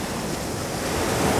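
Sea waves wash onto a beach at Golubitskaya on a breezy day, a steady broadband surf roar that swells slightly louder toward the end, with wind noise and no voices.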